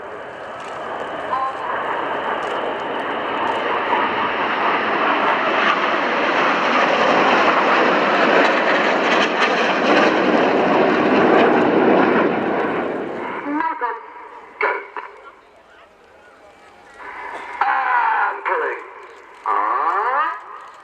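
Red Arrows jets fly in formation at the 2018 Royal International Air Tattoo at Fairford, giving a loud, sustained roar that builds and then cuts off sharply, followed by quieter rumbling and voices.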